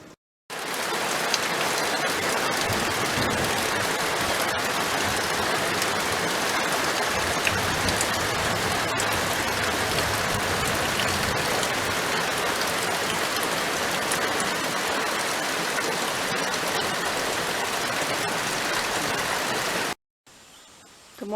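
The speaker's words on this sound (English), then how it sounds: "we've been getting a lot of rain lately" Steady rain falls in a dense, even hiss for about twenty seconds, close and loud, then stops abruptly.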